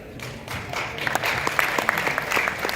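Applause from an audience at a theatre event, many hands clapping at a steady level, with some individual claps standing out sharply over the general roar.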